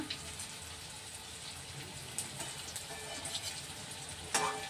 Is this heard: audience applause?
no